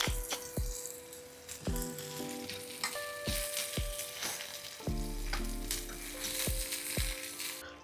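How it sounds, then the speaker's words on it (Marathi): Shimeji mushrooms sauté in a pan, a steady close sizzle with frying crackle throughout, punctuated by several sharp clinks and scrapes of a utensil stirring against the pan. "शिमेजी मशरूम्स जे आहेत ते मी थोडेसे सॉटे करतोय गार्निश करता."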